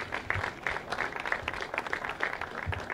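Applause from an audience at a startup event in Santiago, a modest crowd clapping with sharp, irregular individual claps, fairly near and moderately loud for a few seconds.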